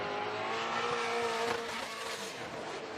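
A Nissan S14 drift car on Falcon Tires during a Formula Drift qualifying run at Irwindale, its engine roaring at high revs with tyre noise, loud and sustained, easing slightly toward the end.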